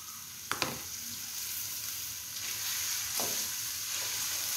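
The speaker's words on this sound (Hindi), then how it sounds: "ये सैम्यूल शिमला मिर्च ऐड कर रहे हैं इसके अंदर और इसको भी बहुत अच्छी तरीके से मिक्स करेंगे" Capsicum being stir-fried with chicken and carrots, a continuous hissing sizzle close by with a couple of sharp utensil clicks near the start and light stirring scrapes, no voices.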